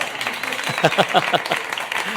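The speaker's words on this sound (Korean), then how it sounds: "박수하겠습니다." A church congregation claps during a Sunday worship service, moderate applause with distinct individual claps standing out, while someone speaks over it.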